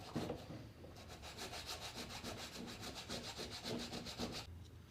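Sandpaper wrapped tightly around a chisel rubs back and forth over carved wood in quick, regular strokes, close and fairly quiet, with no talking.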